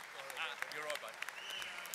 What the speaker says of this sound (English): A round of applause for Freddo